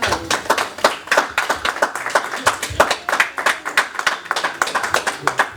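A church congregation claps in a brisk, fairly regular rhythm, with distinct close hand claps repeating throughout and some voices calling out beneath them.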